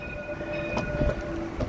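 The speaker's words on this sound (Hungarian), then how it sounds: "Ja, egy villamos, igen, itt indul." A tram pulls away from a city stop, rumbling and clattering close by with steady tonal whine and faint squeals, heard alone over a short moment.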